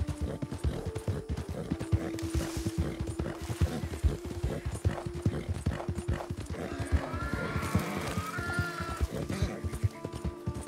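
Continuous clip-clop of horse hooves at a steady trot in Red Dead Redemption 2, with a whinny and bleating animals mixed into a busy game soundscape.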